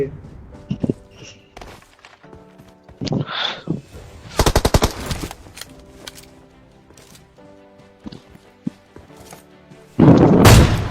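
Gunfire in the video game PUBG, including AWM sniper shots, cracks in sharp bursts and rapid volleys amid thuds and footsteps, with a loud burst near the end.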